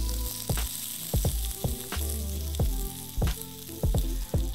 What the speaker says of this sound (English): pour this over the top so that those spring onions get like sizzly and stuff